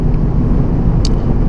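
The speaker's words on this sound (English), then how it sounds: "You can probably hear the wind noise right now." Inside a moving Mazda Miata convertible, a loud, steady broadband rush of wind and road roar fills the cabin throughout the short stretch, with one brief faint click near the end.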